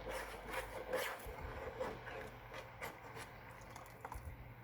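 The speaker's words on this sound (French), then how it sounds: "Faut bien que je brosse pour pas que ça colle au fond." A utensil scrapes across the bottom of a cooking pan to keep a sauce from sticking, making quiet, repeated rubbing strokes at an irregular rhythm, close by.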